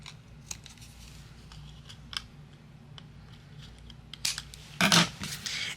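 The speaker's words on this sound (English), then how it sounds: "Now I'm going to use my scissors, and anything overhanging I'm going to trim away." Scissors snip and trim overhanging card paper while a Christmas card is made with Spellbinders supplies, a few quiet crisp cuts followed by louder, closer snips toward the end.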